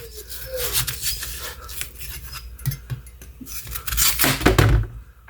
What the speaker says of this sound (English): I'm just going to cut off my edges here